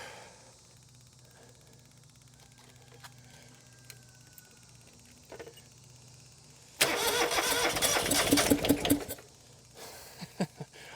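A John Deere 2653a mower engine cranks and fires up abruptly after a quiet stretch, running loud and rough for a couple of seconds before dropping off, followed by a few sharp clunks.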